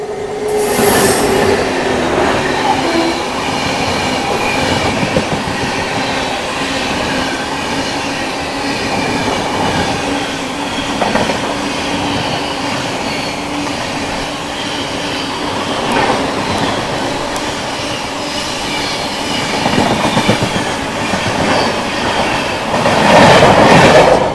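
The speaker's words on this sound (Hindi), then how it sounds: "साथ के साथ अपनी क्रॉसिंग होने वाली है हावड़ा राजधानी से" The Howrah–New Delhi Rajdhani Express passes close by on the rails, a loud sustained rush of wheels and carriages with rhythmic clatter and occasional squeal running the whole time.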